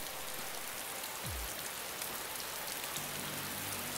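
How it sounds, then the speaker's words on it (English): Heavy rain in the video game Rust pours down as a dense, steady hiss throughout, with a low hum rising near the end and no voices. "God, it's raining hard as fuck."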